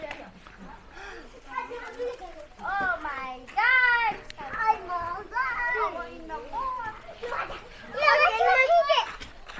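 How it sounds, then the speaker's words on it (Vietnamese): Kids in a rural Bhutan village play and chatter outdoors, their high voices calling and laughing close by, loudest near the end. "Trẻ con nô đùa."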